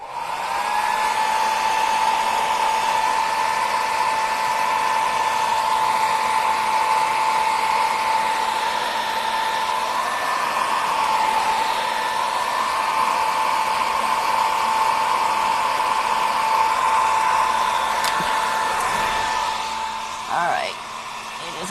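A blow dryer runs steadily and loudly for about twenty seconds, drying wet textured paint on a canvas, its whine holding constant with a brief dip near the end.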